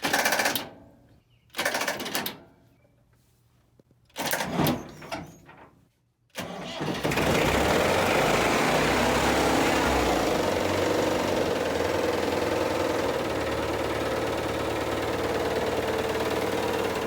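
An old diesel tractor engine, around sixty years old, cranks in a few short bursts with pauses between, then catches and settles into a loud, steady, rumbling idle that runs to the end.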